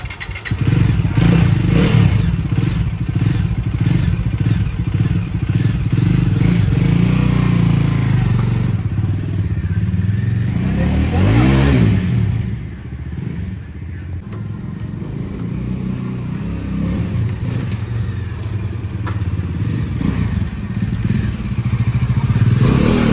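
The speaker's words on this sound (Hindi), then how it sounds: "टेस्ट लेने जा रहे हैं बाइक का।" Bajaj Dominar 400 motorcycle on a test ride after its second service, engine droning steadily and close, with a pitch sweep midway as it shifts and revs, then settling into a lower, slightly quieter run.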